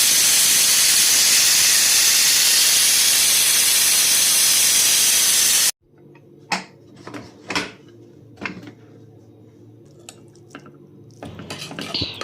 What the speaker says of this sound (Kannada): 1 ಅಥವಾ 2 ವಿಷಲ್ ಕೂಗಿಸಿದ್ರೆ ಸಾಕಾಗುತ್ತೆ.